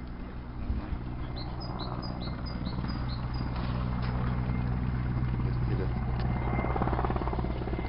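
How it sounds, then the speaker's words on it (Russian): An Mi-8 helicopter drones steadily overhead with a low rotor throb and engine whine, holding an even loudness throughout, with faint bird chirps above, in the Dolina Trzech Stawów park in Poland. "Это вертолет."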